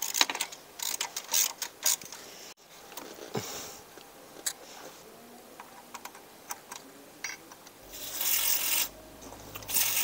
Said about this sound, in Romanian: Băgăm solenoidul de jos.